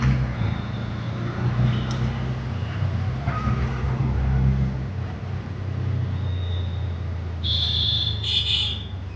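A steady, rumbling auto rickshaw engine drones throughout while riding, with a few brief high-pitched beeps near the end.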